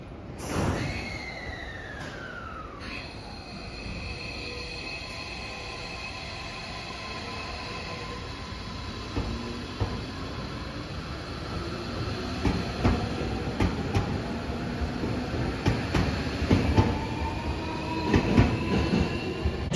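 A three-car Tobu Revaty Ryomo limited express train pulls away from a platform, wheels squealing and clattering faintly as it gradually picks up speed, with a steady hum beneath.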